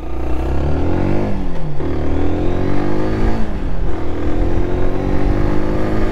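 A Zontes 125 C custom motorcycle ridden for a rear brake test, its engine loud and close, revving up and dropping in pitch twice as it accelerates and slows.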